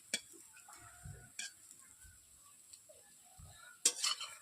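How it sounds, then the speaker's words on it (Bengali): Fried lentil fritters being turned and stirred with a metal spatula in a wok, giving a few soft scrapes and light clinks at low level, with a brighter clatter near the end. "আমি সবগুলো একসঙ্গে আমি খুন্তি দিয়ে নেড়ে নিচ্ছি"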